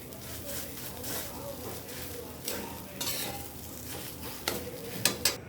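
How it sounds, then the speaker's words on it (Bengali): A spoon stirs boiled potato into a fish mixture for fish chops in a pan, making repeated scraping and stirring strokes with a soft sizzle underneath and a few louder clinks of utensil on metal near the end. "এবার আমি এর মধ্যে সেদ্ধ করে রাখা আলুটা দিয়ে দেব, দিয়ে ভালো করে এটার সাথে মিশিয়ে নেব"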